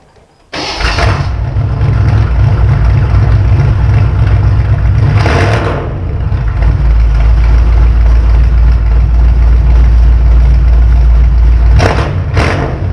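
A car engine cranks and fires up, then settles into a loud, steady idle close by, with a few brief revs along the way and no talking.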